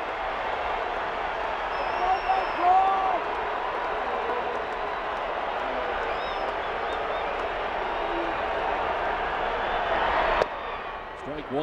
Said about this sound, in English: This sellout crowd very much alive right now.